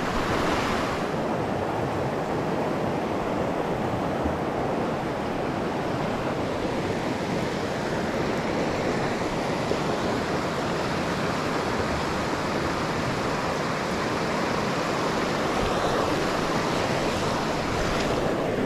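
Fast-flowing river water at a trout stream holding rainbow and cutthroat trout, a steady, loud, close rush of broadband noise that runs unbroken from start to finish, with no voices.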